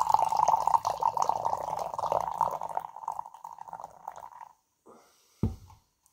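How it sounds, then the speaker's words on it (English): Mountain Dew Amp energy drink poured in a steady, close liquid stream for several seconds, trailing off, then a brief louder splash or clunk near the end. "Go with the pour here."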